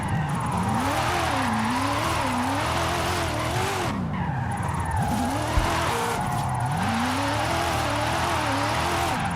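A BMW's engine revs rise and fall in sweeping pitch while tires squeal through a drift in the video game Forza Horizon 5, loud and continuous, with no talking.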